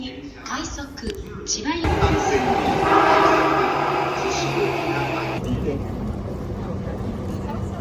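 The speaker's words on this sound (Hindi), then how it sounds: "ट्रेन आने वाली है" Train arriving at a station in Japan, a rising rumble and rolling rail noise that grows loud and then settles, with voices and station announcements mixed in.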